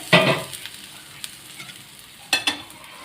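Thalipeeth flatbread frying in a pan as the lid comes off, giving two short bursts of sizzling and stirring scrapes separated by a quieter stretch, close and alone.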